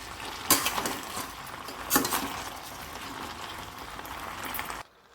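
Crystal salt is stirred into a village-style tomato and coriander chutney, giving a steady close scraping and swishing with two sharper clinks of utensil against the vessel, and no voices.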